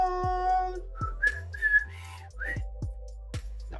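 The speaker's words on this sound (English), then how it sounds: "That whistle's poor, but anyways, let's move on. It's not about the whistling." A person whistling a short, wavering tune with bright sliding notes, close and fairly clear, broken by a few low thumps and breathy pauses, with no speech.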